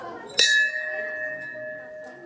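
A single temple bell strike rings out clearly at Kondeshwar temple, then its bright metallic tone hums and slowly fades over the next two seconds.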